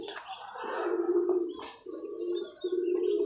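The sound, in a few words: kamagar pigeons cooing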